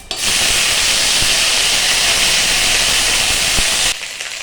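Ginger paste with five-spice and black cumin hits hot oil in a pan, giving a loud, steady frying hiss that holds evenly for about four seconds, then drops off abruptly near the end.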